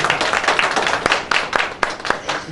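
Brisk hand clapping from a party audience at an Eid gathering, a dense run of claps with a few sharper individual ones standing out, fairly close and loud.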